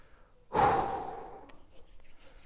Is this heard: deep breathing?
yes